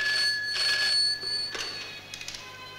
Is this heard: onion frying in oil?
no